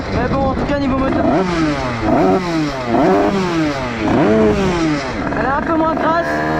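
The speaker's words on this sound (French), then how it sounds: "sur les mi-régimes, elle a encore un peu du mal à prendre les tours. On l'entend." A small Derbi moped engine revs up and down repeatedly, pitch rising and falling in uneven surges, sounding strained and struggling to climb at middle revs, with a voice talking faintly underneath.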